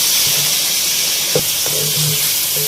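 Chicken browning in a pan with coriander powder and other spices for a restaurant-style chicken korma gives a steady, fairly loud hiss throughout, with a few soft clinks and taps over it.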